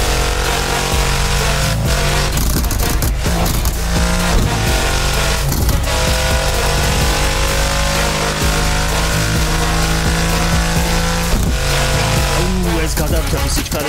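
A 900-horsepower Mercedes CLS63 Brabus drives hard at high speed, its engine roaring loudly and continuously with rising and falling revs and sharp shifts, heard from inside the car with a voice talking over it.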